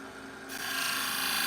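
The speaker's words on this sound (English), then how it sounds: "It's my job to sharpen her shears." Pet grooming shears are drawn across a sharpening stone, a single steady rasping scrape that starts softly and swells louder after a moment, close and alone.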